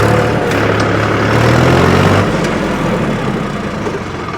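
A Mahindra 275 DI TU PP tractor engine running in second gear, a loud, close, continuous low diesel rumble with a steady drone underneath that drops slightly partway through.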